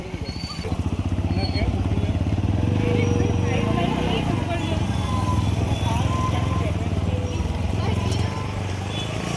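A motorcycle engine putters at a steady idle-like rhythm, fairly close, on the way up Pavagadh hill, with people talking over it throughout.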